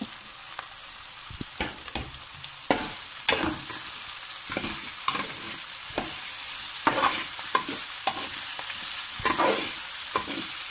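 Onions sautéing for a Punjabi-style mutton curry, with tomatoes added, stirred in a pan: a steady sizzle broken by a series of sharp spoon scrapes and clatters at irregular intervals, close and fairly loud, with no talking.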